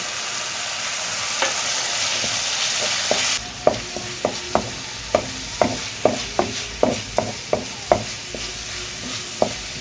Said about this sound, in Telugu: ఇప్పుడు ఇందులో ఒక ఉల్లిపాయ, పచ్చిమిర్చి, అల్లం వెల్లుల్లి గ్రైండ్ చేసుకున్న ముద్దను వేసుకుందామండి. ఇది కొంచెం వేగాలి.